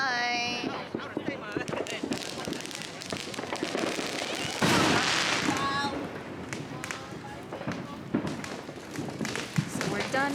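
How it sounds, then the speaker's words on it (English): Summer fireworks burst and crackle in a rapid, dense series of booms and pops nearby, with people talking throughout. "So we're done watching fireworks."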